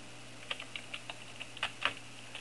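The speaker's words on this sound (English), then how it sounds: "Having fun typing?" Typing on a computer keyboard heard as a string of separate, fairly faint key clicks in an uneven rhythm over a steady low hum, with no talking.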